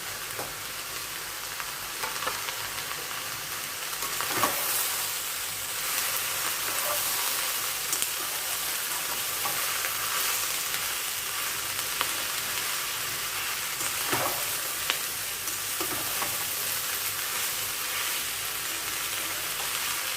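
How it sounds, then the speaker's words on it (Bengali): Tomato frying with soya mushroom keema and peas in a pan, a steady broadband sizzle with soft stirring scrapes and a couple of brief utensil knocks, no voices. "আর এই টমেটোটাও এবারে দিয়ে দিই, কারণ একটু ভাজা ভাজা হলে কাঁচা গন্ধটা"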